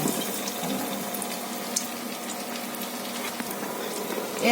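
Potato and meat cutlets coated in egg and biscuit crumbs hiss and sizzle in hot oil, a steady, fairly quiet bubbling frying noise with no talking.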